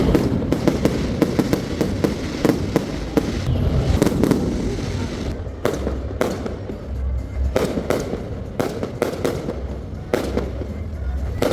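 New Year fireworks and firecrackers explode over Medellín, Colombia, a dense run of sharp cracks and booming bursts in quick irregular succession, loud and close, with a background wash of crowd noise.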